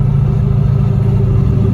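A car with a turbocharged LS engine cruises at about 25 to 30 mph, giving a loud, close, steady low engine drone with constant rumble.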